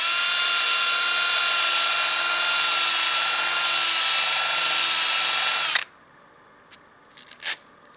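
A power sanding pad works a turned wooden bowl, its grit still clogged with wax, giving a loud, steady high whine for most of the stretch before it cuts off abruptly, leaving a few faint knocks.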